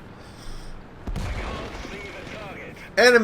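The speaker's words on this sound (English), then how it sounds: "His artillery speaks once again and takes out the Yag, but then the enemy artillery speaks back." Artillery in the World of Tanks video game fires with a heavy boom partway through, the rumble trailing off beneath game sounds, followed by a sharp electronic tone at the end.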